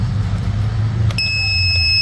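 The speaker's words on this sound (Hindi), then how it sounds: "वो एंटर करना चाहेगा तो आपने डिटेक्ट करके बजर बजेगा" The buzzer on an Arduino-based smart agriculture animal-detection model sounds midway as a steady, high-pitched electronic tone. It continues to the end over a low background hum.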